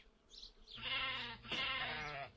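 A sheep in a farm setting bleats twice in quick succession, loud, close and wavering, after a brief quiet start with no talk.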